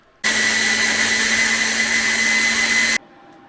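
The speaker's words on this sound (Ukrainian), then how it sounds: "Гіркий перчик також разом із солодким пропускаємо через блендер." A kitchen blender whirs at high speed through hot and sweet peppers, a loud, steady motor whine starting abruptly and cutting off after about three seconds.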